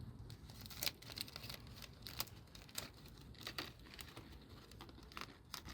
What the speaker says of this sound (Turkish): Fidan poşetimizi ya da saksımızı dalımıza monte edeceğiz.